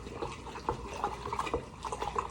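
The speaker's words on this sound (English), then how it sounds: "I'm mixing this, stirring it up." Chimichanga filling is stirred in a pot, giving soft wet squelches and light scraping clicks in an irregular rhythm, close and moderately quiet with no voices.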